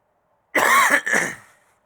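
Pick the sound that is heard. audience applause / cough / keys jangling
cough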